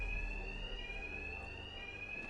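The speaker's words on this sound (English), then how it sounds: "Two-Face's thugs won't hear me over the alarm." A steady electronic fire alarm tone rings continuously in Batman: Arkham Knight, a single sustained high pitch droning on without pause over low background rumble.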